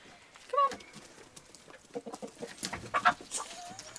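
Chickens on a Portuguese homestead cluck and squawk close by in scattered bursts, with a sharper call near the start and a busier flurry toward the end, over a soft outdoor background.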